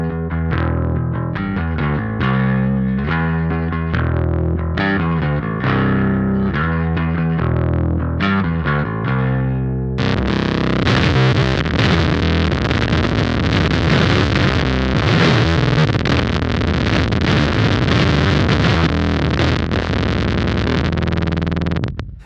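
Squier Classic Vibe Precision Bass played through a clean signal, loud repeated notes and short riffs, with a denser, busier passage taking over partway through.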